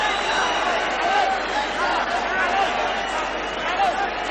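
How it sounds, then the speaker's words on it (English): A large boxing crowd roars and cheers steadily for British boxer Alan Minter in the ring at his world middleweight title fight against Vito Antuofermo, a dense, unbroken wall of noise. "everywhere that Minter goes now, from side to side of the ring, he's greeted with a great burst of cheering"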